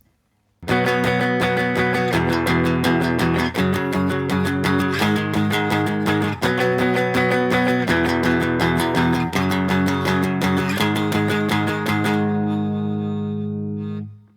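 Distorted electric guitar plays the chord progression from a song, steady rhythmic power-chord strums with several chord changes over about twelve seconds, loud and alone, ending on a ringing chord.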